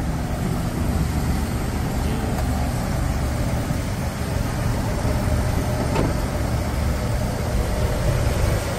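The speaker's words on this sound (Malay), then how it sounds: "Dia punya bunyi enjin senyap, lepas tu tak gegar." A Toyota Grand HiAce motorhome's petrol engine idles steadily with a soft, even low hum and faint background noise, no voices.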